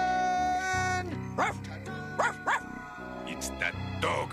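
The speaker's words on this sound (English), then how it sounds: "It's that dog of his." A small dog in a Tintin cartoon gives several short, sharp yips and barks in an irregular rhythm over a busy orchestral music score.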